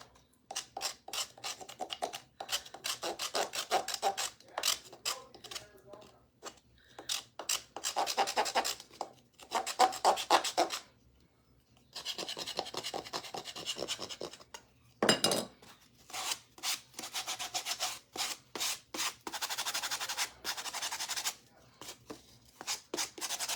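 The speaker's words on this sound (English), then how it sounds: "I'm just kind of sanding off some of the spots where there's lifted paint" Repeated back-and-forth scraping strokes of sandpaper on a painted wooden birdhouse, removing lifted paint, coming in rhythmic bursts with short pauses between, close and fairly crisp.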